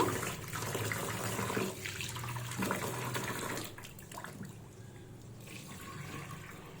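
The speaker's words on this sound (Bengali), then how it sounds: "আমি চালটাকে একবার মানে ভালো করে একটু ধুয়ে নিচ্ছি" Rice is washed under running water, giving a steady splashing, gurgling wash that is close and moderately loud, easing off slightly toward the end.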